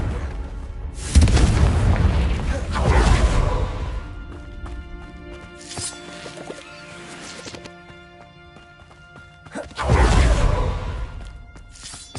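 Confringo blasting spells in the video game Hogwarts Legacy, with loud booming explosions in separate bursts and rumbling tails between them, plus whooshes and ringing tonal effects.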